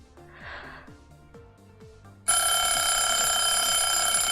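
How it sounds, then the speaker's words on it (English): A hydrate reminder timer goes off with a sudden loud, sustained electronic ringing tone about halfway through, following quieter background sounds and soft rhythmic blips. "And that is the hydrate timer."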